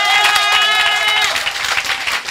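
A church congregation at a worship and praise service applauding loudly, with dense, continuous clapping and crowd noise and a sustained tonal voice or music layered over it.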